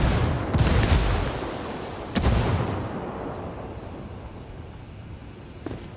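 A frag grenade blows up in a video game firefight, two heavy booming blasts about a second and a half apart, each trailing off into rumble, with a faint sharp pop near the end.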